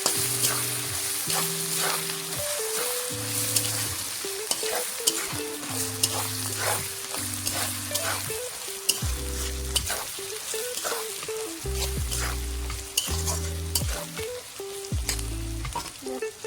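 Ginger, garlic and green chili paste sautés in hot oil, a steady sizzle and fry running throughout with repeated scraping and stirring strokes of a spatula in the pan, close and fairly loud with no talk.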